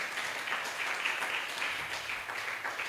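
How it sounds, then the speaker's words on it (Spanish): A church congregation claps together in praise, a continuous, moderately loud wash of many hands that holds steady throughout with no one speaking. "Dale fuertes palmas de alabanza al Señor"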